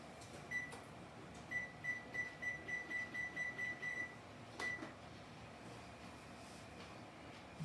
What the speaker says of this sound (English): I'm going to set the timer. I'm going to start it at 10 minutes.